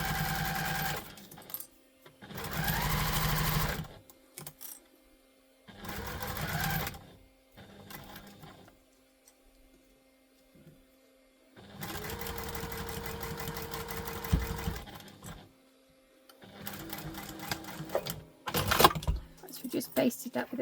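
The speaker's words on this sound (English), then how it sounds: "We're just basting them together at the moment." A sewing machine basting tote bag panels together with a small seam allowance runs in several bursts of rapid rhythmic stitching, separated by quiet pauses. A voice speaks in some of the gaps.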